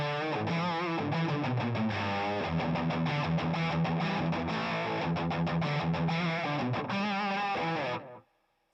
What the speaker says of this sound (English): use the treble boost and really slam it and get a lot of distortion